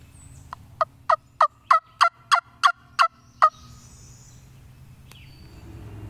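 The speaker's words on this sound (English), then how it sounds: "He's gobbled on the ground just a couple times now" A wild turkey in the spring woods gives a run of about nine sharp, evenly spaced calls, loud and fairly close over quiet outdoor background.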